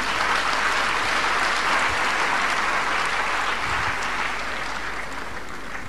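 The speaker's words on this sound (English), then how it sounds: "Can we give God a clap offering?" A church congregation gives sustained applause, a clap offering during a 70th birthday thanksgiving service, with steady dense clapping filling the space throughout, loud and continuous with no talking over it.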